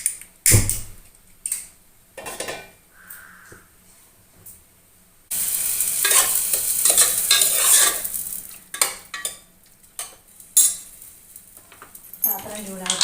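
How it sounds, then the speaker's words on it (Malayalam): Mustard seeds tempering in hot oil in a pan for sambar, sharp bursts of sizzling and popping with stirring and utensil clinks against the pan, interrupted by quieter gaps and brief talk. "സാമ്പാറിന് കടു വറക്കണം കേട്ടോ."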